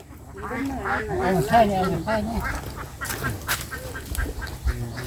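Several duck quacks sound close by, overlapping with a person talking nearby, followed by scattered rustling and thumps.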